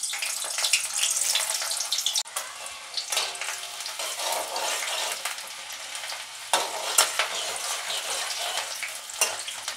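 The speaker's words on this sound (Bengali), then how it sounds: "প্রথমেই আমি একটু পেঁয়াজটা ভেজে নেব।" Onions sizzle in hot oil in a pan on a gas stove, a steady crackling hiss with occasional stirring scrapes and louder spitting bursts, close and fairly loud.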